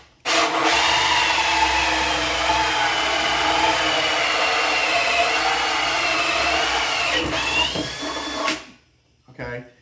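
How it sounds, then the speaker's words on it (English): A FastCap hole saw on a quick mandrel bores through wood with a loud, steady whirring grind for about eight seconds before the motor winds down and stops. "Now I'm gonna drill this bigger one."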